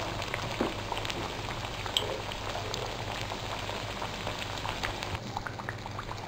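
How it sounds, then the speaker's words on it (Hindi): Mathri frying in hot oil makes a steady, fine crackle and sizzle, an even bubbling hiss with small pops throughout, heard close and alone without talk. "मट्ठी अच्छे से फ्राई हो चुका है"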